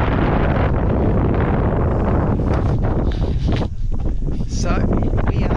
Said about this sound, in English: More windy than I thought.